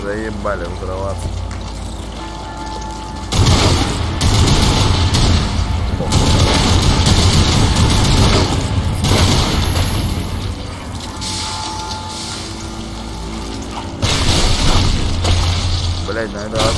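Repeated heavy booms and crashing blasts from the video game Lost Planet 3, loud bursts that come in clusters across the stretch, with a voice talking over part of it.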